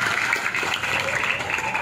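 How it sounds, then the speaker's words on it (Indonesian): A crowd at an outdoor Maulid sholawat gathering in Sunter Jaya applauds the event organizers, a continuous, loud and even wash of clapping for the whole moment. "tepuk tangan untuk penyelenggara yang luar biasa"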